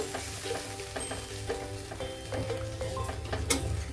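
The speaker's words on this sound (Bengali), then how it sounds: "আর এখন আমি দিয়ে দেবো 1 বাটি জল। জলটা দিয়ে একটু নাড়াচাড়া করব।" A masala for a puti fish tel jhal is stirred in a pan after a bowl of water goes in, giving a steady bubbling sizzle with repeated scraping strokes of a spatula at close range.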